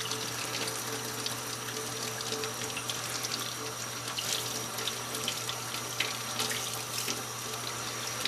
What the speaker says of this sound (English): The main object is just to rinse them off.